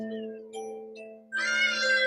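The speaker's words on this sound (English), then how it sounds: "Kitty cat, why don't you say hi to everyone?" A cat gives a single loud, close meow after a quiet stretch that holds a steady low hum and a few faint tones.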